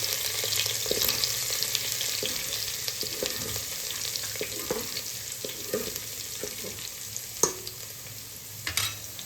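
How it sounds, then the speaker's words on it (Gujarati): Garlic paste sautés in a pan for Rajwadi biryani, with a steady, fairly soft sizzle running throughout. Faint scraping stir strokes and occasional clicks from the utensil punctuate it, and no one speaks. "લસણની પેસ્ટ નાખી દઈએ એમાં થોડી વાર એને સાતડી લઈએ"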